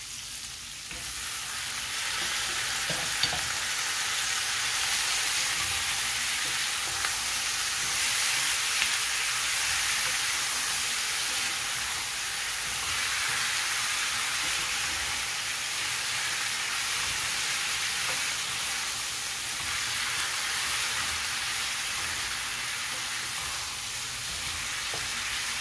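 Tomatoes frying in a hot pan for mutton kuzhambu, a steady bright sizzle and hiss lasting throughout with occasional faint clinks of stirring, close and even, no voices.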